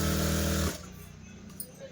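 Sewing machine stitching the top edge of a lined blouse along its border: a loud, dense mechanical whir that stops abruptly after under a second, leaving a low hum and faint handling noise.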